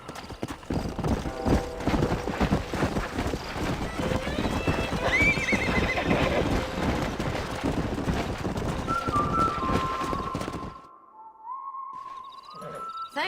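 Horses in the Red Dead Redemption video game, with rapid hoof clip-clop and loud whinnies filling most of the stretch before dropping to quieter whistle-like tones near the end.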